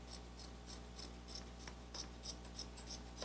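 Office scissors snipping through a t-shirt, a steady series of quiet, crisp cuts in an even rhythm, close up with no talking.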